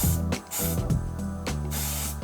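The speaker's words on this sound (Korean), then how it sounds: "스프레이를 뿌릴 때 머리 모양을 다시 한번 잡아줄 수가 있어요." Gas hairspray sprayed onto styled hair for a bun, several loud, close hissing bursts with brief pauses between them.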